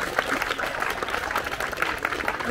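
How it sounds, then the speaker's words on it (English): A small outdoor crowd claps after a milestone announcement at a hilly Yorkshire parkrun in Potternewton, a dense, even patter of hands that is fairly close and continuous throughout. "now we are allowed one more applause actually for all the volunteers today"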